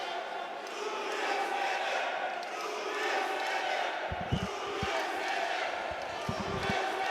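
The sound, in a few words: crowd chanting at kickboxing fight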